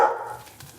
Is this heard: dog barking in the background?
yes